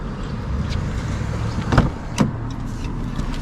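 A car drives on the road with a steady low engine and road rumble from inside the cabin, broken by two brief thumps or clunks.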